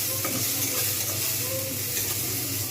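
Tomatoes sizzling in a little hot oil for chilli chicken, a dense continuous frying hiss with occasional stirring clatter, close and without talking.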